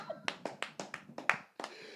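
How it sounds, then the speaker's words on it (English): A few people clapping in a slightly irregular run of about nine sharp claps over two seconds, close and fairly loud with brief gaps between them. "I want to clap it up for HOV"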